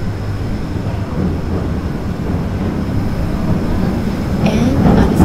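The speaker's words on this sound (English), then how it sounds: "And here's the train coming back from Port Discovery." Theme park train at Tokyo DisneySea approaching from Port Discovery, a low continuous rumble growing steadily louder with some higher rattling near the end, no talk.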